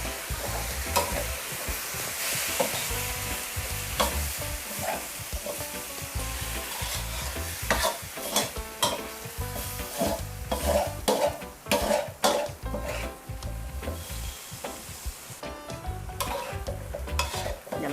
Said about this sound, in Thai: ผัดให้คะน้าสุกก่อนค่ะ